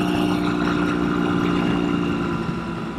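A Ural two-wheel drive sidecar motorcycle engine runs steadily nearby, a low, even idling hum with a faint mechanical vibration and no talk over it.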